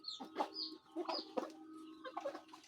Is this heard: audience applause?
no